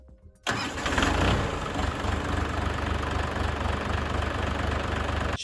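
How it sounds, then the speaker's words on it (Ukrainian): A DTZ 5354 tractor engine cranks and catches, then settles into a steady, loud diesel idle with a rough, knocking rumble close by. "Заведемо тракторець, хай попрацює з хвилинку"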